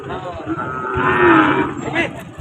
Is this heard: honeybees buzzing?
no